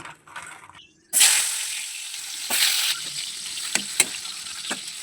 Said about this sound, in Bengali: চতুর্দিক দিয়ে এরকম ঘুরিয়ে ঘুরিয়ে ভাজতে হবে